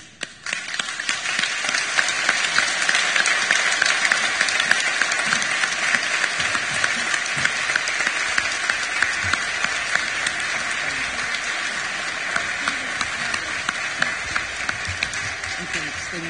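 A church congregation at a bilingual Easter Vigil Mass claps together in sustained, even applause, a dense wash of many hands that keeps going for over fifteen seconds.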